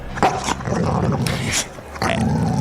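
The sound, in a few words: Boxer dog barking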